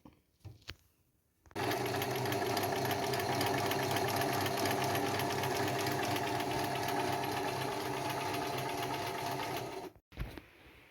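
A sewing machine stitches around a fabric circle for a pincushion, a fast steady mechanical whir with rapid needle rhythm running about eight seconds, starting and stopping abruptly with faint handling sounds before and after.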